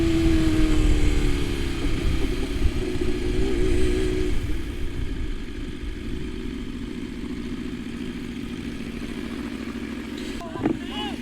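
A motorcycle-like engine in a head-to-head run drops a gear, its loud steady drone shifting pitch early on, then settling into a lower hum with a brief rattle near the end.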